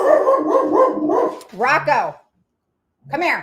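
A dog barks and yips in short harmonic bursts close by, some overlapping a person calling out, with a pause of silence between the later barks.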